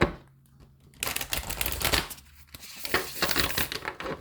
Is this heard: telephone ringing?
no